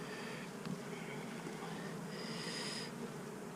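A honeybee colony hums steadily during a hive inspection where the bees are short of food and brood is present, with a constant buzzing drone and a brief brighter swell of wings partway through.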